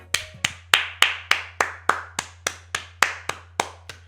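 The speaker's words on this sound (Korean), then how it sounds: "박수." A single person claps their hands about a dozen times in a steady, even rhythm, each clap crisp and close against a low background hum.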